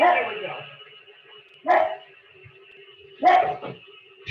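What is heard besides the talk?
dog barking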